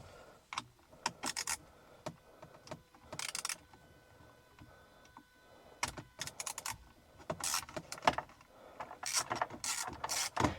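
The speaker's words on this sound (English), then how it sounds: "I'm going to use a ratchet with a T20, so you can get a nice right angle" A small ratchet fitted with a T20 bit works a screw on a Porsche Sport Chrono dashboard clock, making repeated rapid clicking bursts, close and fairly faint, with short pauses between strokes and no talking.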